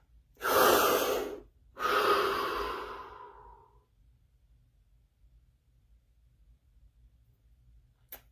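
Two deep breaths are taken close to the microphone during a guided body-scan session. A long inhale is followed by a slow exhale that trails off into quiet room tone, with a faint click at the end.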